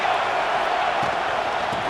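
A dense stadium crowd roars continuously at an Auburn versus Georgia Tech college football game, a steady broadband wash of cheering and shouting close around.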